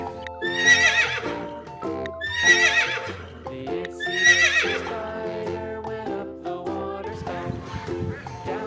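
A toy horse sounds repeated whinnies and neighs with clip-clop hoofbeats, bright and electronic, in several bursts that run close together without a break; no one talks.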